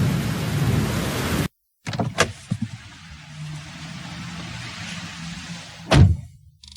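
Steady rain falls around a delivery van at night, with a sudden cut, sharp cracks and a loud close rumble of thunder near the end, no talking.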